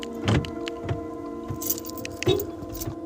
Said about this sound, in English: Now I lock my car so nobody can get me.